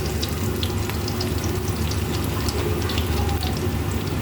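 Chopped onions and a few shrimp fry in a pan, a continuous close sizzle and crackle with no talking.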